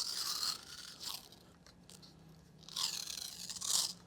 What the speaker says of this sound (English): I'm just going to put 1 or 2 rounds of tape around the back end of the gauge